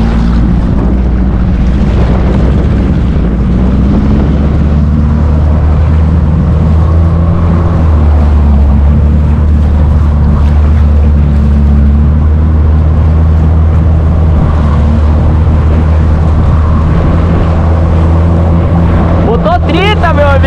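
A steady low engine drone from an outboard motor runs throughout, with wind buffeting the microphone and a voice talking over it.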